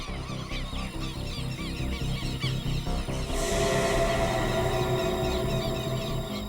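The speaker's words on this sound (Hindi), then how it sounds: "ये पक्षियों की आवाज सुन रहे हैं आप?" Many birds call and honk together in a forest, a loud, continuous chorus of goose-like honks and chatter that thickens halfway through, with no voices.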